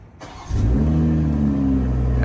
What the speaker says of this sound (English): I'm gonna do the remote start that we could hear it